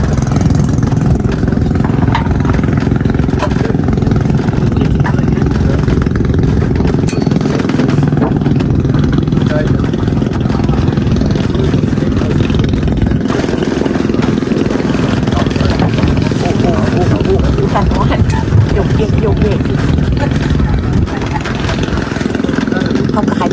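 A steady, loud boat engine drones and clatters throughout at sea, with a person speaking over it at times.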